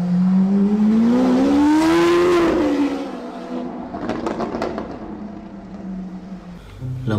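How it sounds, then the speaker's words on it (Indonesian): A green Lamborghini sports car engine revs loudly, its pitch sweeping upward and then falling away, followed by a softer, rougher mechanical passage. "Di sini ada Lamborghini"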